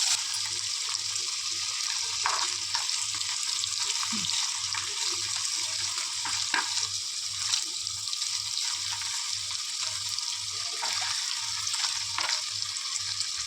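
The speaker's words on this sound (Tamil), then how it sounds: "இப்போ தவா மேலே பன்னீரை கொஞ்சம் எண்ணெய் போட்டு தவா மேலே சூடு பண்ணிக்கலாம்" Paneer cubes roasting in oil on a tawa: a steady, bright, hissing sizzle with occasional soft pops and scrapes, continuous and close, with a faint low rhythmic hum beneath.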